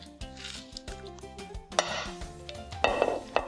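Salmon lifted from a crockpot with a metal utensil, bringing clinks and scrapes against the pot, soft irregular knocks, then a brighter rattle of metal near the end.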